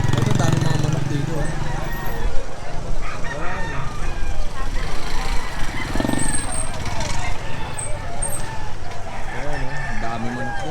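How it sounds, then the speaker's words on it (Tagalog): Many chickens and roosters, including fighting cocks for sale, cluck and crow together, a dense busy chorus of fowl close by, with people talking over it. "Ang dami manok yan."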